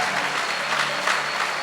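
A church congregation applauds steadily, a dense wash of clapping that stays even and fairly loud throughout.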